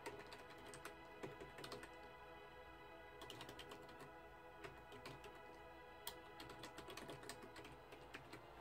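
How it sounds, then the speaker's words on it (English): Steady clicking of fingers typing on a computer keyboard while setting up text for a Flosstube tutorial, a fairly quiet run of key taps with brief pauses and small bursts throughout. "And I will do a drop shadow. All right, and then I just start typing."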